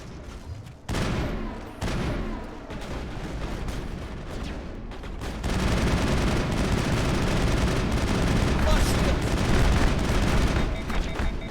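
Dense battle gunfire from the Mass Effect video game, including sniper rifle shots, with booms and sustained fusillade-like bursts that grow louder and more continuous after the first few seconds, no talking.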